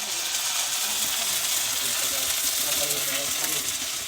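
Kurdya fritters frying in hot oil make a steady, bright sizzle with crackling bubbles throughout, while someone talks over the cooking.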